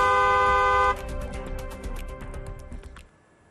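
A car horn blares in a steady sustained tone for about a second, then gives way to a run of short rapid toots that fade out near the end, with no voices present.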